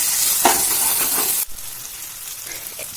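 Chopped tomato fries loudly in a pan with onion, ginger and garlic paste while being stirred, a dense hissing sizzle that drops sharply halfway through and continues more quietly.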